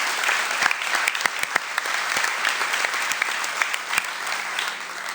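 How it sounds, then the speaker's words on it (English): A crowd applauds the 2013 girls track dream team at a spring high school sports awards ceremony, with steady, continuous clapping and a few sharper individual claps standing out. "Keep that applause going for the girls track dream team 2013"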